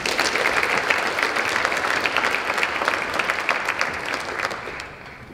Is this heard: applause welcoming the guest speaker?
yes